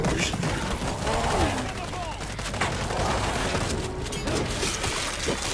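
Steady rapid automatic fire from a placed machine gun turret in World War Z, Jerusalem Dead Sea Stroll chapter on insane difficulty, running continuously and fairly loud amid dense game noise with voices speaking over it.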